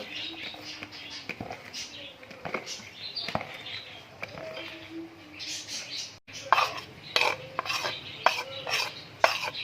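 Onion is stirred in a cooking pan, a close run of soft scraping and pattering strokes that grow busier and louder toward the end, with a little faint speech in the background.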